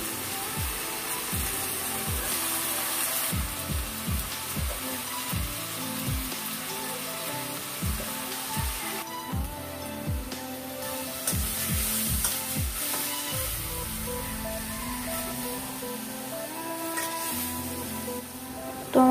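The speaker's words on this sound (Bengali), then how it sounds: "তো প্রথমে আমি শাক ভাজিটা করবো, সেটা হলো পাট শাক ভাজি।" Jute leaves fry in a pan at a home kitchen stove, a steady close sizzle running throughout with repeated sharp scraping knocks of a spatula stirring against the pan.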